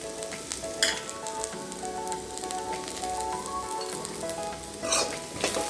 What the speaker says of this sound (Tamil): ஒரு நிமிஷம் நல்லா வதக்கி விட்டுக்கோங்க.